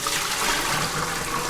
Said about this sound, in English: It's finally time to dump out your buckets.